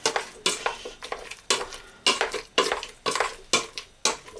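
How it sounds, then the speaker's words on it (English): Potatoes mashed by hand in a bowl with butter and milk for Irish champ, giving about nine rhythmic, soft squelching pushes with a clink of the masher against the bowl on each stroke, close and alone. "Mash it till it's nice and soft"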